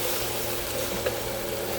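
Potatoes fry in a pan on a home stove with a steady, moderate sizzle, broken by one brief stir-like clink.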